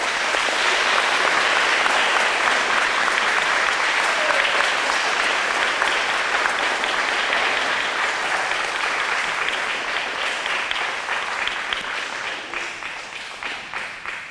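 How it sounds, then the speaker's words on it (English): An audience at a 2014 Arbor Day celebration gives a long round of applause for the winners, dense and even at first, then slowly thinning and fading toward the end. "give them all a big round of applause"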